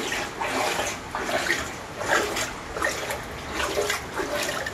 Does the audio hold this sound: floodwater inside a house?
yes